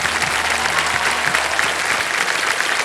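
Studio audience on a TV quiz show applauding a contestant, a dense, even roar of many hands clapping at once, loud and sustained throughout with no break.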